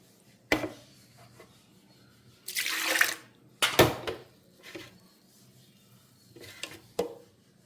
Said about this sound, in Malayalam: ഞാൻ അരിപ്പ് വെച്ചിട്ടുണ്ട് ഒരു പാത്രത്തിൻ്റെ മേലെ. അതിലേക്ക് നമുക്ക് ഇത് ഒഴിച്ചു കൊടുക്കാം.